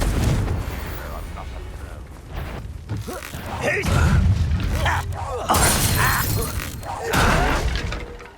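Fiery blast spells burst repeatedly during Hogwarts Legacy combat on PS5, loud shattering explosions and impacts landing one after another amid busy game noise and speech.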